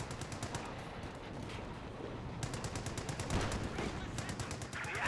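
Dense bursts of automatic and rifle fire crackle through a Company of Heroes 2 skirmish, with rapid rhythmic volleys from several weapons layered over a steady battlefield rumble at moderate volume.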